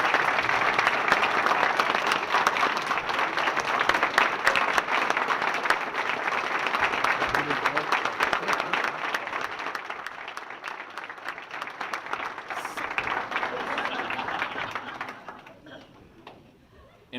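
Audience at a racing performance center naming ceremony applauds steadily for about fifteen seconds, a dense, sustained clapping that fades out at the end.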